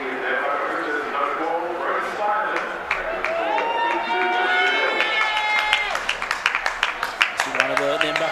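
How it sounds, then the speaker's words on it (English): A rugby league crowd in a grandstand at a South Grafton Rebels versus Nambucca Roosters first grade match gives a modest cheer that swells, then breaks into scattered claps near the end, with a commentator talking over it. "A little bit of a cheer from the crowd up here in the grandstand"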